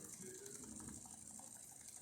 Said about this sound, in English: So let's test the hot water.